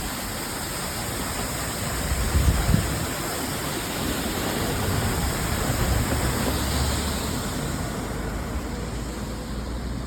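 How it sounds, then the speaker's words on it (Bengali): Mandakini waterfall near Gangtok gives a steady, dense roar of falling water, loud and continuous throughout with no voices. "ওয়াটারফলটা ভালোই জল পড়ছে এখান থেকে।"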